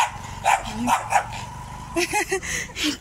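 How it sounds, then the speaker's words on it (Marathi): A dog barks repeatedly nearby, a quick run of sharp barks, a short pause, then another burst. "कुत्रा बघा सकाळी सकाळी भुकतंय"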